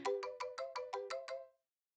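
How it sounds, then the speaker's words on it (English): A video game phone ringtone plays eight quick bright electronic chime pulses in a steady rhythm, clear and alone, ending abruptly into silence. "My phone rang, interrupting my thoughts."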